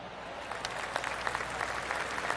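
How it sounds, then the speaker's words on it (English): Soft golf clap applause from a small gallery in a golf video game on PS4, a light scattered patter of hands lasting a couple of seconds. "Oh, golf clap."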